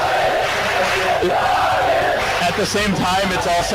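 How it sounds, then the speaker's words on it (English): Arena crowd at a Dota 2 esports match between Navi and OG chanting loudly and continuously, under a commentator talking over it. "The crowd just took this opportunity to start chanting Navi."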